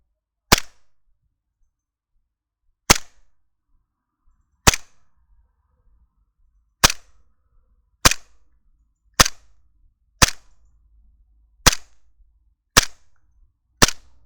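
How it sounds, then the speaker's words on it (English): Hi-CAPA airsoft pistol fired on green gas through a chronograph: ten sharp, separate cracks spaced a second or two apart, each with a brief gassy tail, loud and close with no talk. "We're gonna take this to the chrono and see what the actual FPS is with this green gas magazine"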